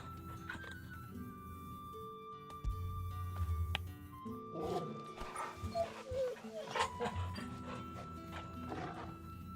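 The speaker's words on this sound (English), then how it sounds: "Gotta love the pupper." A dog barking in the Final Fantasy XVI video game, a few yips and barks among game sounds and music, with someone talking over them.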